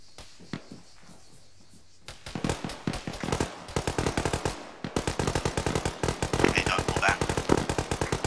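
Gunfire in the ArmA 3 video game opens with a few scattered shots, then breaks into rapid automatic bursts that keep up loud and dense to the end, with voices now and then.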